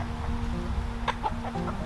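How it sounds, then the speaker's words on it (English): A young hen clucks close by, right underfoot on a flower farm, giving a few short, soft clucks over low steady background noise. "this chicken is like under my feet"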